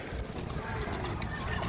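Mostly Percheron horses at an annual fall horse sale, with hooves clopping on the ground and a whinny amid a busy, noisy background.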